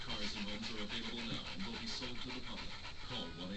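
A pitbull pants rapidly and rhythmically up close, quick steady breaths running throughout, with people talking in the background.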